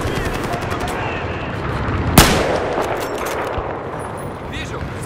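Enemy sniper gunfire in a snowy sniper video game, a single sharp loud shot cracking out near the middle over a dense backdrop of battle noise and distant firing.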